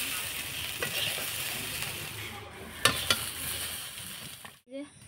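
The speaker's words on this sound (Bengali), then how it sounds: "সয়াবিনটা ভেজে নিচ্ছি আমি তেলের পরে দিয়ে, একটু হালকা হলুদ দিয়ে সয়াবিনটা ভেজে নেব।" Soybean chunks frying in oil with turmeric, a soft steady sizzle with scattered scraping stirs and a couple of sharper knocks near the end, fairly faint and with no talk.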